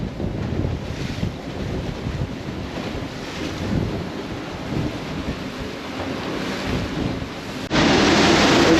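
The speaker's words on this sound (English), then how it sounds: "And it's beautiful and sunny, but very windy." Strong wind gusts across a choppy, sunny bay, with steady blustery roar and wave wash filling the whole stretch, growing louder and harsher near the end as the wind hits the microphone.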